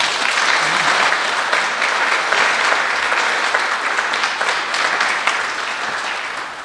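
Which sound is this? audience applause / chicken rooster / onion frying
audience applause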